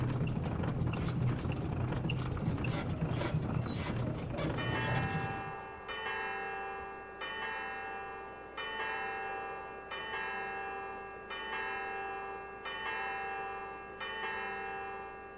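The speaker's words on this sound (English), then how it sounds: "So it's kind of a warning bell" A warning bell in the adventure game Syberia rings in repeated evenly spaced peals after a dense, noisy opening, each strike ringing out clearly and decaying before the next.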